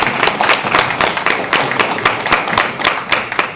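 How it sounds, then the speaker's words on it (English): Audience applause at a Chattahoochee County board of education meeting: dense, steady clapping from a crowd, fairly loud and continuous throughout, with sharp individual claps standing out at a regular pace. "Let's give them a round of applause."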